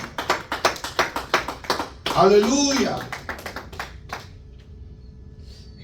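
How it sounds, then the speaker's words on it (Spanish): A church congregation claps in quick rhythmic applause during a sermon, slowing and fading, while a voice calls out loudly in the middle. "den un aplauso al Rey con todo el corazón"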